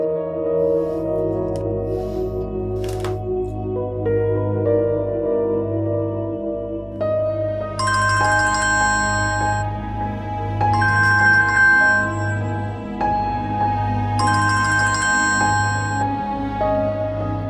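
A phone ringtone plays a repeating melodic chime pattern, clear and fairly loud over a steady low hum, cycling several times with bright bell-like accents.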